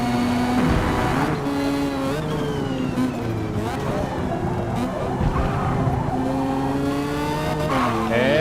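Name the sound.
Mazda Savanna RX-7 rotary engine revving, video game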